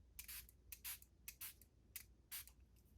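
A handheld spritzer bottle filled with water sprays a handmade birthday card in five quick, soft hissing bursts, close and quiet.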